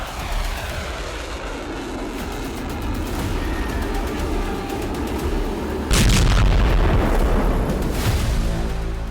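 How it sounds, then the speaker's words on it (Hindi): Bomb explosions strike Tehran as a low, rumbling roar with crackling bursts, and a heavier, louder blast hits partway through. "चालीस जंगी जेट से तेहरान में 100 बम विस्फोट।"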